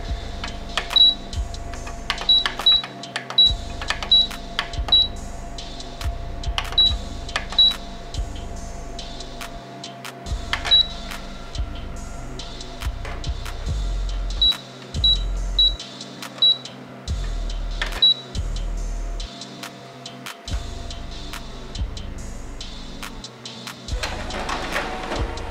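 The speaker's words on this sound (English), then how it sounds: "Here I select the document and enter the PIN to print a document." Canon LBP722Cdw color laser printer running a print job, with repeated soft mechanical clicks and ticks, low whirring motor pulses and intermittent feed thumps, close and moderately quiet, no talking.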